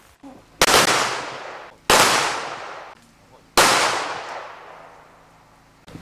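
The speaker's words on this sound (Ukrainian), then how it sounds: "був військовий салют" Three loud volleys of a military gun salute at a memorial, a couple of seconds apart, each a sharp crack followed by a long echoing decay outdoors.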